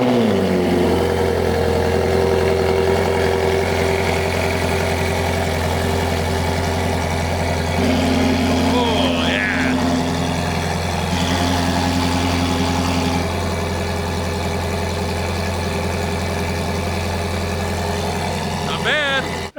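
A car engine idles steadily and loudly at close range with a freshly fitted exhaust not yet bolted in place, a continuous low drone with some rattle and faint background voices.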